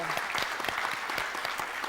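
A church congregation applauds volunteers who cleaned the church, with steady, dense clapping from many hands in an indoor hall that continues throughout.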